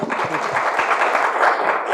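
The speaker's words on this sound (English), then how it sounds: "let's give a big round of applause" Audience applause at a PLF 2016 conference session, a steady dense wash of clapping hands that carries evenly and fairly loud for the full stretch, with a few scattered louder claps on top.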